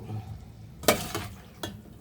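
Arroz caldo ingredients landing in hot oil, with soft sizzling and a few sharp clinks and scrapes of a spoon against the pan, close and quiet.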